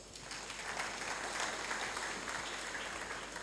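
Faint, continuous applause from an audience at a memorial lecture, a soft steady wash of many hands clapping at a distance throughout.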